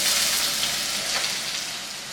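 Finely chopped large onion frying in a pan, a loud dense sizzle that hisses steadily and close up throughout, with no talk.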